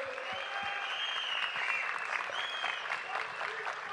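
Sustained crowd applause at a CHP political rally in Muğla, Turkey, dense and steady throughout, with shouts and cheering mixed in.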